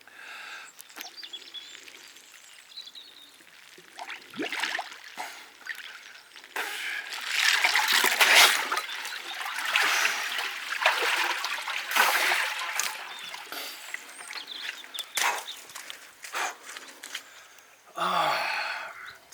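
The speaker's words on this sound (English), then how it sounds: "I'm going to go for one more dunk and then I'm done." A body dunking into cold water in an oak barrel ice bath, with sloshing, splashing and trickling water throughout, a louder surge midway and a final splash near the end, no speech.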